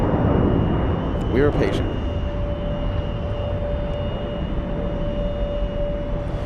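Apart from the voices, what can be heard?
airplane taking off with landing gear going up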